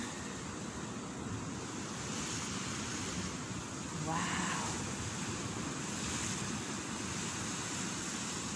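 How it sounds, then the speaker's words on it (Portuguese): Sea waves crash on rocks at sunrise in a steady, loud, close roar of surf with wind noise, swelling at intervals. A person briefly exclaims partway through. "Esse som do mar maravilhoso"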